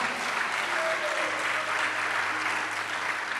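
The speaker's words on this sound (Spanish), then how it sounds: "Dele fuerte ese aplauso al Señor," A church congregation applauds in praise to the Lord, dense and steady clapping that fills the room at a constant level.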